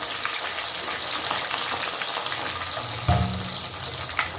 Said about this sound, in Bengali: মাছগুলো আমি এপিট ওপিট দুপিটি ভেজে নিচ্ছি